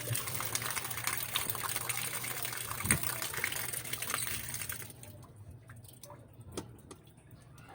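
Water rushes steadily through the supply line of an Ariston water heater, a continuous gushing hiss that thins and quiets partway through, with a few faint clicks.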